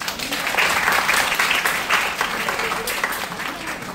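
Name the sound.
audience applause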